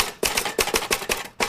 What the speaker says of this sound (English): Type these, will you, Nancy?